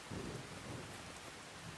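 Steady rain and a low thunder rumble roll on continuously in the Farming Simulator 25 game world, a dense, even wash of sound with no talking.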